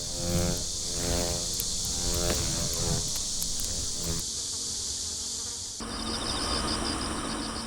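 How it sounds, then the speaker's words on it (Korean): Asian giant hornet buzzing steadily near sap oozing from a tree in a bamboo forest, a dense close insect drone layered with other flying insects, with a new tone shift near the end. "곤충의 강자 장수 말벌의 등장에 모두 혼비백산."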